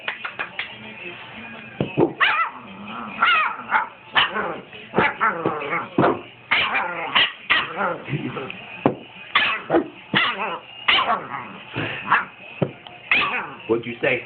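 A husky puppy yips and barks in short, repeated bursts close by, mixed with frequent talking from a person in the room throughout.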